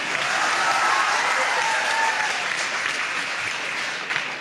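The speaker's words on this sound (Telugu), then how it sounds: "మీరు చప్పట్లు కొట్టక్కర్లేదమ్మా" An audience at a motivational talk bursts into sustained applause, dense and steady for several seconds before thinning slightly, with a faint murmur of crowd beneath.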